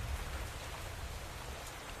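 Steady rain falling in Minecraft, a continuous soft hiss of patter with a low rumble underneath, even and fairly quiet throughout with no voices.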